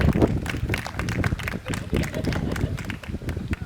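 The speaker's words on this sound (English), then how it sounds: "Let's give her a round of applause." Audience applause at an outdoor mural unveiling honoring the artist, a dense, steady patter of many hands clapping with voices mixed in throughout.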